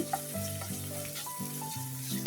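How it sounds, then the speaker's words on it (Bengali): Chicken pieces fry with spices in a pan, giving a close, steady sizzle with stirring scrapes and a few soft utensil taps, and no voices. "মশলার সঙ্গে আমি মুরগিটি ভালো করে একটু নেড়ে চেড়ে নিচ্ছি। প্রায় একটু ভাজা হয়ে গেছে।"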